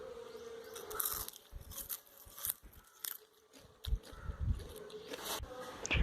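Crispy fried okra (ladies finger fry) being bitten and chewed up close, with repeated sharp crunches and crackles scattered irregularly through the bite, with no talking.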